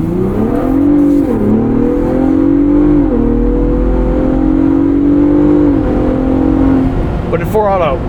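A 2024 Ford Ranger Raptor in four-wheel auto mode accelerates hard out of corners. Its loud, close engine note climbs repeatedly, dips briefly at several gear changes, then settles under road noise.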